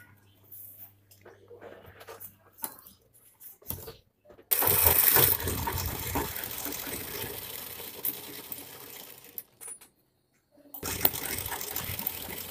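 An electric sewing machine stitches petticoat pieces together in a fast, steady whirring run of several seconds, starting and stopping abruptly between quieter pauses.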